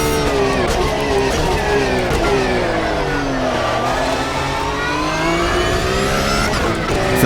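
Race car engine in a racing video game, holding a steady high-revving drone with shifting pitch through upshifts and downshifts over a lap, loud and continuous with no talk.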